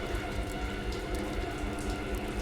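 Rain falls steadily inside a dark theme park building, a dense, even patter filling the space with no voices.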